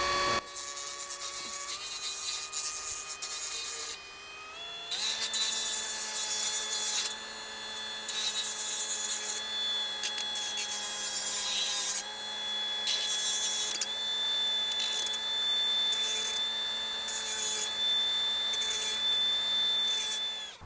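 Steady power-tool whine from a grinder working on a part for a 1973 Harley-Davidson Sportster during a clutch brake and oil tank job, running continuously with brief dips in pitch and a short pause near the start, close and loud.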